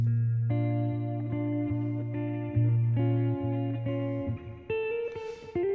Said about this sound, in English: at longer decay times, this reverb will actually develop a slight modulation